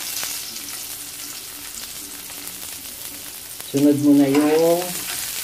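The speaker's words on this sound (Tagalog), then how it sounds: "That's the purpose of sauteing the spice" Spices sauteing in hot oil for binagoongan, a continuous close sizzle throughout with a short burst of speech toward the end.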